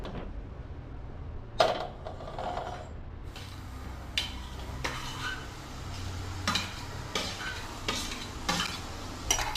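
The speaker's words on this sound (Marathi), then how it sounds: "कांदा असा ना थोडासा गोल्डन होईपर्यंत त्याला भाजून घ्यायचं चांगलं" Onion roasting in a pan for Konkani-style chicken masala with fresh cashews, with soft steady sizzling and intermittent scraping stirs of a spatula against the pan, fairly close and quiet.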